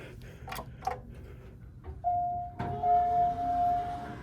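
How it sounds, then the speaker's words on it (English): A loud sustained electronic chime sounds from an Otis Elevonic elevator, recently modernized bottom-drive car at Metro Center, ringing a steady tone twice in a row above quiet lobby noise, after a few faint clicks. "Loud chime."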